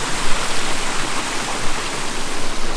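A small stream at Wang Takhae waterfall in Prachinburi rushes steadily, a dense broadband wash of flowing water that holds level throughout with no voices over it.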